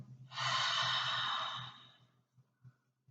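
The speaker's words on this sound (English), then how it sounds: "Exhale that out of your mouth." A single long, breathy exhale through the mouth during a guided yoga breathing flow, close and steady for about two seconds, then fading into quiet room tone.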